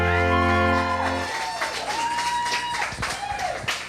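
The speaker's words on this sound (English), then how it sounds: "give them another big round of applause." Wedding guests applaud the bride and groom at a reception, a dense wash of clapping that rises after a sustained musical chord fades, with a voice and cheers heard over it.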